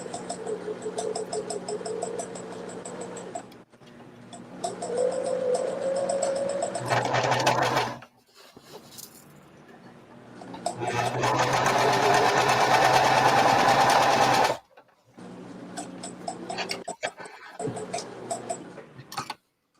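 Sewing machine stitching bandana fabric for a tote bag, running in several bursts of steady rapid whirring stitches with short pauses between, close and fairly loud.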